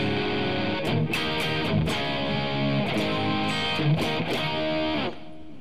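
Electric guitar played with the distortion switched off, a slightly crunchy tone with strummed chords and rhythmic string hits over about five seconds, ending with a quieter ringing tail.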